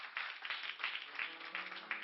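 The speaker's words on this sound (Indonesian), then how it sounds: "Lu jangan tepuk tangan dulu," A church congregation claps in a faint, distant patter of mixed applause that lasts about two seconds.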